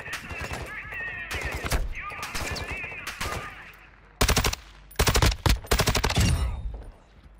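Rapid automatic gunfire from the Call of Duty Modern Warfare II DMZ mode, loud bursts of several shots in quick succession separated by short pauses, with a player's voice talking between them.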